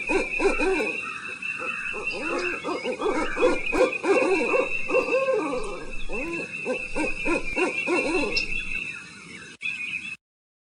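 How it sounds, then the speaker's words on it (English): Owl hooting in a series of repeated calls, steady and fairly close, with a faint constant high hiss running underneath throughout. "An owl made this sound."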